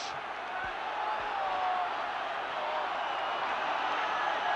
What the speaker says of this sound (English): Listen to the Molineux crowd